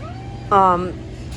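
A single drawn-out cat meow, loud and close, rising then falling, against a quiet workshop background.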